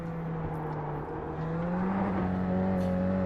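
A car engine in a sim racing game holds a steady, droning whir and climbs slightly in pitch as it revs higher, smooth and continuous with no talk over it.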